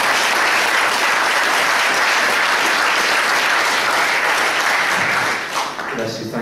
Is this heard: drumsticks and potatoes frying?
no